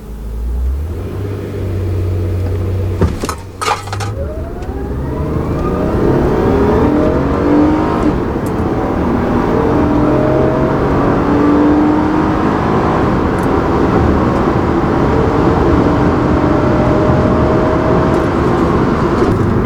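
A V6 Honda Accord accelerates hard through a performance test, its engine rising in a long, loud climbing roar with rumbling low end, close and steady under no speech.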